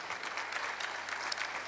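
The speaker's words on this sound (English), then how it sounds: "I think it deserves another round of applause for that resounding presentation." Audience applause following a keynote presentation at a live broadcast event, a steady dense wash of many hands clapping throughout, moderately distant and without speech.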